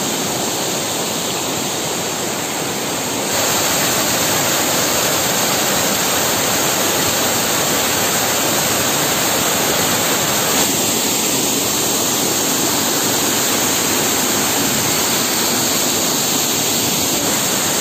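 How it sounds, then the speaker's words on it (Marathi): Talavade waterfall in Lanja, in the Konkan region, roars as a dense, continuous rush of falling water, loud and close, with no voices over it. "फारच अतिशय सुंदर असा हा धबधबा आहे।"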